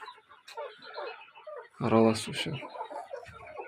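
Chickens of the Kuchinsky Jubilee breed and mixed breeds cluck in a brief, fairly loud burst in the middle, with softer fowl sounds scattered around it. People talk steadily throughout.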